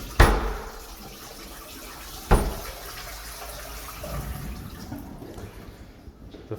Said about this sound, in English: Let's just get a bit of water in this one.